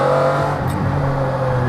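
Steady, loud engine drone from a McLaren F1's naturally aspirated engine driving on the road, a sustained tone with no talking.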